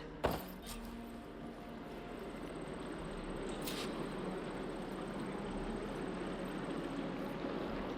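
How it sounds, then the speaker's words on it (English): Water flows steadily back into a room in the Horizon video game, a continuous, even rushing wash with a brief sharp knock near the start, moderately quiet and unbroken by voices. "Aloy, I can hear water in the room again."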